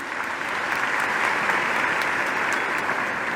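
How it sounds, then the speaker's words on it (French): Sustained applause from an audience at a Mauritian International Women's Day event, honouring a female minister after her speech; steady, dense clapping fills the whole stretch without pause. "Nous pouvons l'applaudir une nouvelle fois"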